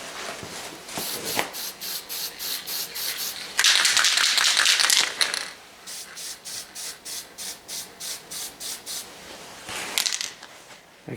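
Light coats of paint hiss from a spray can inside a 1965 Chrysler 300 L interior, coming as a steady run of short, evenly spaced bursts with one longer continuous spray near the middle.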